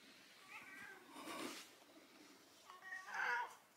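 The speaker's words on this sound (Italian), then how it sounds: "Qui naturalmente c'è anche gatta Stellina" A female cat meows softly a few times at close range in a quiet indoor room, with short calls spread over a few seconds.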